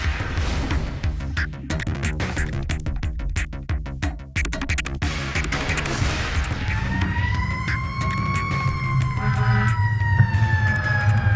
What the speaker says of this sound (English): driving with lights and siren to an emergency site